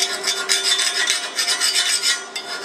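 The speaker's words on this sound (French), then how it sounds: "Le burin qui est ici, on va prendre les deux. Hop. On vient nettoyer." Steel chisel scraping and chipping slag off a weld bead on thick plate after a MAG butt weld, giving a rapid, continuous metallic rasping close up with no voices.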